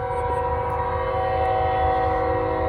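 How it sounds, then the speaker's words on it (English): A Norfolk Southern freight train, southbound 241, rolls past with a loud, steady tonal horn blast over a deep rumble of rail cars, close and continuous. "finally another train. Southbound 241"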